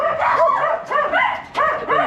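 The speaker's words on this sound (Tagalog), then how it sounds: "Ito may mga aso pala sila dito." Dogs bark and yip in repeated bursts, several close, loud barks in quick succession with short pauses between them.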